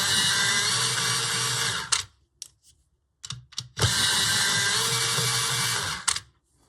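An electric pencil sharpener grinds coloured pencils in two loud, sustained whirring bursts of about two seconds each, separated by brief clicks and short rattling taps.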